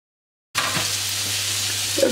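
Minced meat and peppers sizzling in a frying pan, a steady crackling hiss that starts abruptly and runs continuously, with a few light clinks of stirring near the end.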